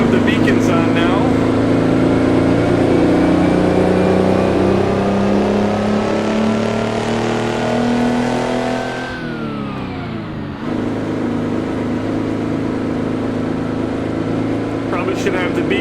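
A Mack R truck with a Detroit two-stroke engine in American Truck Simulator, a loud continuous drone that climbs in pitch, dips sharply around the middle and picks back up again.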